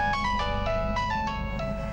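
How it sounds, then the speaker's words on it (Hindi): A mobile phone rings with a repeating electronic ringtone melody, steady and fairly close, playing alone over a low background hum in a tense household scene from a crime drama. "टीनू का फोन"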